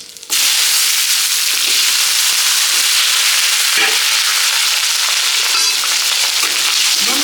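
Potatoes fry with bay leaf and cumin in hot oil for a Chaitra Sankranti meal. A loud, close crackling sizzle starts abruptly and continues steadily, with occasional spatter and stirring noises and no voices.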